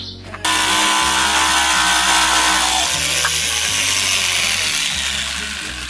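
A power saw starts abruptly and cuts through wood for camper van interior cladding, whining loudly and steadily up close with small shifts in pitch as the blade works, then easing slightly toward the end.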